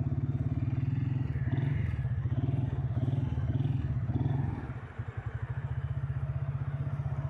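A motorcycle engine idles at a traffic light, a steady low rhythmic throb running throughout with a brief dip and wobble in the middle before settling back.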